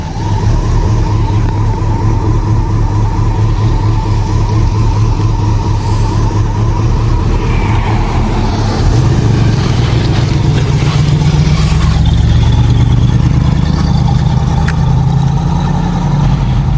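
A car engine hums steadily while driving, with a low, even drone that swells a little louder partway through. No voices.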